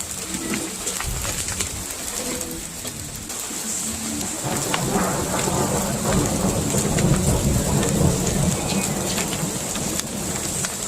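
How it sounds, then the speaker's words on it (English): Heavy hail and rain pound steadily on a surface while thunder rumbles low beneath, a constant dense roar throughout. "Thunderstorm and hail."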